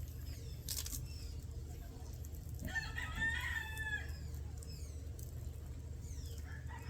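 Chickens cluck and a rooster crows on a farm in the Philippines, the crow rising clearly midway over steady low background rumble, with other birds chirping faintly around it.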